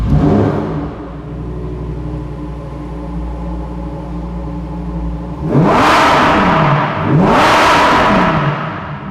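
A Lamborghini Huracan LP 640-4 with a new aftermarket exhaust idles with a deep, steady rumble indoors at a dealership, then gives two loud, sharp revs that rise and fall back close by.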